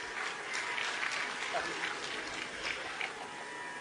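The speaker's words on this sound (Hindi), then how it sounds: "अभी तो ताली बजा रहे हैं" An audience claps steadily through a Hindu religious discourse, a moderate, continuous patter of many hands with no break.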